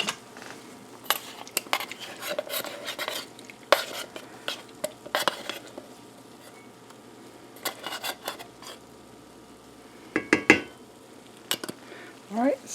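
Drained, rinsed black beans pushed and spread across a layered Frito pie in a cast iron skillet, giving scattered scraping and clinking taps of a utensil against the pan, close and intermittent with quiet gaps.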